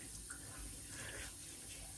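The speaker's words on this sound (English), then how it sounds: "I'm just taking cold water, splashing it on my face here, working it into my hands." Cold tap water runs steadily into a bathroom sink, with soft, continuous splashing as it is scooped and splashed onto a face before a shave; quiet and close throughout.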